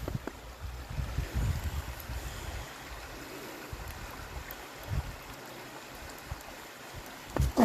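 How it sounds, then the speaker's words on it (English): Water rushes beneath the Morgan Covered Bridge as a faint, steady hiss heard from a distance, with a few soft low bumps and thuds scattered through it. "from over here, we do see some rushing water."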